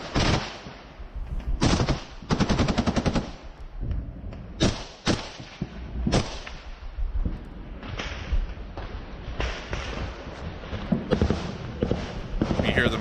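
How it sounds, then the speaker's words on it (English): Machine guns firing in a firefight between Ukrainian forces and Russian infantry near the front line, loud bursts and single cracks repeating irregularly and close. "We hear them firing their machine guns into the distance in a firefight with Russian infantry."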